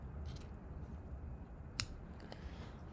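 Scissors snip twine on a handmade card, one crisp close cut standing out against a quiet, hushed background.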